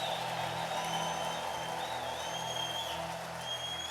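A church congregation in a large hall claps continuously while high, wavering ululation rings out over the applause, filling the room.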